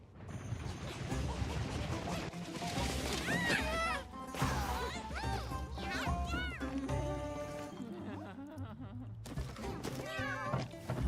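A cooking cat in Monster Hunter Wilds meows repeatedly over clattering kitchen thumps and a busy game music bed, the meows short and bright, recurring throughout.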